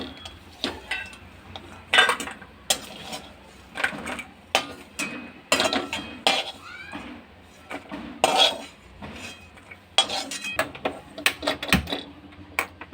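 Golden-brown roasted coconut scraped from a hot kadhai onto a plate while making fenugreek laddus, with a series of sharp metal clinks and scrapes from a spoon at irregular intervals, close and fairly loud.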